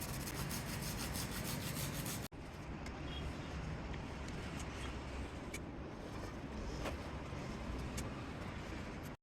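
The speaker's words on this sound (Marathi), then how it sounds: "थापी वडीच्या मिश्रणावर मी ओले खोबरे किसून टाकणार आहे" Fresh wet coconut being grated over a sweet thapi vadi mixture, giving a steady, close, dry scraping that runs continuously with a brief break near the start, with no talking.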